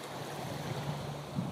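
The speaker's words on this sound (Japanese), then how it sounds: "これ聞こえます？ 波の音" Ocean waves washing onto a white sandy beach at a sunset beach, a soft, steady low wash with gentle surges and no talking.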